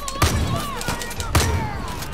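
Gunfire in the game Far Cry New Dawn: two sharp gunshots about a second apart over game sounds and faint background music, with a voice briefly heard.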